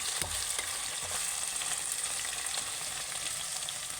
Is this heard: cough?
no